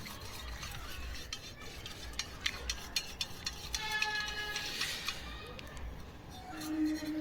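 A spoon stirs a turmeric mixture in a pot for a pigeon remedy, giving soft scraping and ticking clinks in an uneven rhythm, close but quiet, with a faint sizzle beneath.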